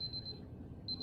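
An electronic alarm beeping in the video game Superliminal, a rapid high-pitched repeating tone that cuts out briefly and then resumes, clear against a quiet background.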